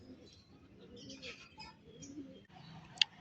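Racing pigeons coo and chirp in short, soft bursts close by, with faint background noise and a sharp click near the end.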